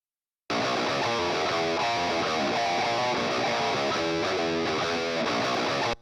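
Dense, distorted electric guitar recorded through a 57 microphone with EQ bypassed, a thick continuous wall of chords sustaining steadily and close, starting abruptly after a short silence and cutting off at the end, no voices.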